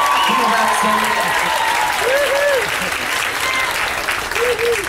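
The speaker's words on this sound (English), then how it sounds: "let's get a big applause for all the techs and everybody that are putting the show together" Theatre audience applauds the show's technical and backstage crew during a live stage showdown, a steady roar of clapping through the whole clip, with faint voices and sung tones underneath.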